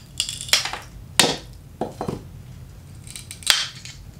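Compound tile nippers cut mosaic tile in a series of about five sharp, close snapping cracks, each followed by a brief crumbly rattle of breaking pieces.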